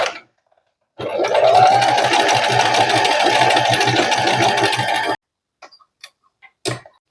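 A sewing machine runs loud and close in one continuous burst of about four seconds while back stitching the seam of a mini tote bag, then stops, followed by a few small clunks.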